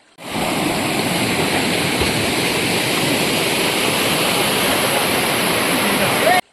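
Water from a small forest channel rushes in a loud, constant broadband roar, starting abruptly and holding steady without a break.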